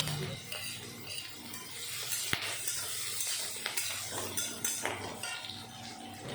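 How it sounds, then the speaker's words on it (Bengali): Green chilli and crushed garlic fry in tempering oil spiced with radhuni and black cumin while making a mustard greens and fish dish, with a soft sizzle under repeated scraping and clinking of a spatula against the pan. "এখন আমি দিয়ে দেব কাঁচা লঙ্কা আর খেতো করা রসুন"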